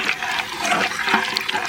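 Mustard oil is poured into a hot wok, giving a steady, loud, splashing liquid rush that lasts the whole moment.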